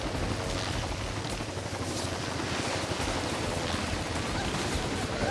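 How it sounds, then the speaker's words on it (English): Helicopter in the Infamous 2 video game, a dense, continuous rotor roar with rumbling low end and steady loudness, mixed with game action noise and no talk. "now we gotta take the helicopter out"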